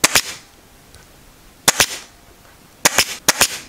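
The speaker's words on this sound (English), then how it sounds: "I like to staple quite close to the top" Staple gun driving staples through a cardboard strip into a wooden couch frame during sofa reupholstery: sharp, loud snapping shots, a pair near the start, a double around 1.7 seconds and three more toward the end, with quiet between.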